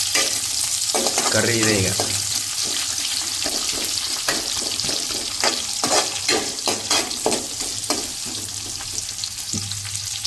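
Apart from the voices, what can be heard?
onions frying and being stirred in a pan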